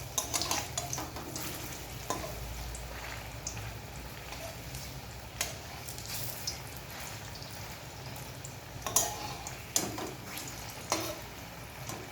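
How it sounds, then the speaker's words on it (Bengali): Soybean muitha dumplings sizzle steadily in a hot pan while a utensil stirs and scrapes now and then, close up, with no one speaking. "ভালো করে উল্টে পাল্টে একটু লাল লাল করে ভেজে নেব।"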